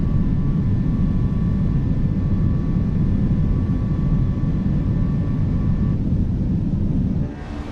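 Fenix A320 airliner in MSFS 2024 climbing out after takeoff, a loud, steady broadband engine roar with faint high tones that holds for several seconds before dropping off abruptly near the end.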